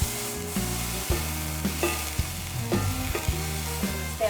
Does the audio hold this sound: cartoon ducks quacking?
no